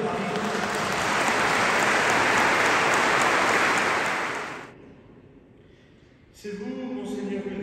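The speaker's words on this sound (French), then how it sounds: "Nous vous applaudissons puisque maintenant vous êtes à Paris." A church congregation in Paris applauds at a celebration of a bishop's ordination anniversary, with a long, full burst of clapping that stops suddenly, a short quiet gap, then the clapping resumes.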